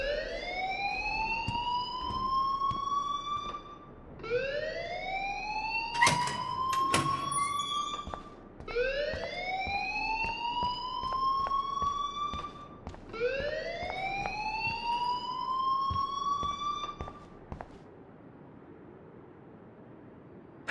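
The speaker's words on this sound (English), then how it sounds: "please turn off that alarm since that's your job" A fire alarm in the video game Life is Strange wails in rising, sweeping siren tones, sounding four long cycles in a row, loud and steady with no talk over it.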